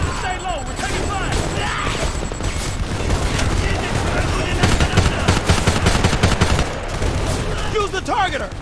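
Rapid bursts of automatic gunfire and heavy shots crack through a Homefront first-person shooter battle, dense and loud across the whole stretch, with shouted squad voices over the firing.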